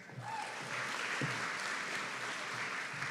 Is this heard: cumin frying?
no